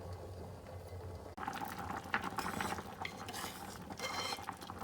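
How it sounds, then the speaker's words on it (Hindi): Pasta boils in a pot of water with cooking oil, giving a steady bubbling hiss with scraping stirs and utensil clinks close by. "और इसको पास्ते को नरम होने तक बॉईल करेंगे।"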